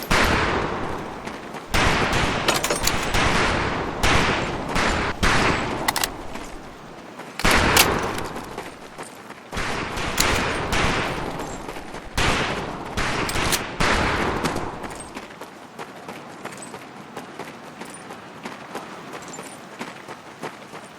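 Rifle gunfire at shooting practice in the World War II game Medal of Honor Pacific Assault, a long run of loud, overlapping shots and rapid volleys that thins out near the end.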